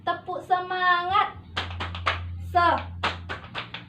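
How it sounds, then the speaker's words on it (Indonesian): A group performs a rhythmic 'tepuk semangat' clap, with short bursts of hand claps in a patterned rhythm mixed with chanting voices. "Tepuk semangat."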